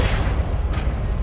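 A Confringo fire spell explosion in the video game Hogwarts Legacy, a dense low boom lasting about a second amid continuous rumbling combat noise, with no talk.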